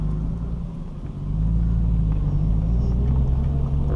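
A 1989 Toyota Supra street car rumbles along while driving, its engine a low, steady drone that swells a little louder after the first second and holds, with faint road noise and no talk.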